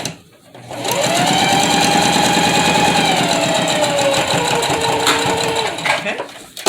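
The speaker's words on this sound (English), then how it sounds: "now we're going to sew the side seam." A sewing machine runs steadily through the side seam of a fabric face mask, a loud, continuous whirring stitch lasting several seconds with a brief pause and restart near the end.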